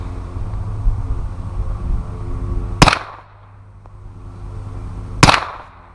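Two supersonic rounds fired from a suppressed Glock 23 in OD green, two sharp loud cracks about two and a half seconds apart, each dying away quickly over a rumbling outdoor background.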